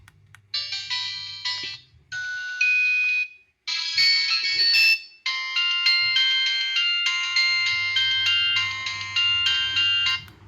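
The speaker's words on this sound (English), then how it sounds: "So you got fixed ringtones and more ringtones." Emporia 313 mobile phone plays a series of loud, bright electronic ringtone melodies in short bursts separated by brief silences, with no talking.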